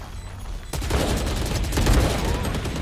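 Rapid gunfire from a Valorant tournament match, including a Kalashnikov-style rifle, bursts in after a brief lull and continues as dense, loud, overlapping volleys of shots.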